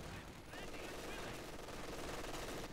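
An LMG and a Maxim machine gun fire dense, continuous bursts in a Company of Heroes 2 match, with the chatter running throughout under busy battle noise and some talk.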